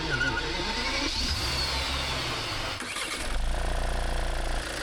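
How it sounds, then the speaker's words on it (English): Two car engines start together, a 2-litre four-cylinder turbo-diesel Škoda Superb and a Rolls-Royce Phantom, giving a steady loud mechanical roar that shifts and swells as the second engine catches and settles toward idle. "Now what I'm going to do is start the Škoda engine, and we're going to start the Rolls-Royce"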